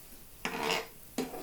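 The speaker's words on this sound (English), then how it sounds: "Just stir that quickly." A spoon or spatula scrapes and rubs quickly through fusion tteokbokki with softened rice cakes in a pan, giving two short, close scraping strokes over a quiet background.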